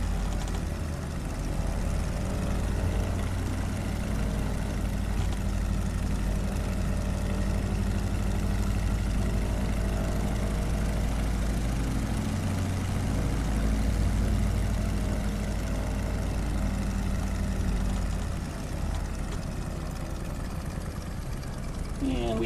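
Steady aircraft engine drone at reduced power on a landing approach in Microsoft Flight Simulator over South Dakota, a constant loud hum with little variation throughout.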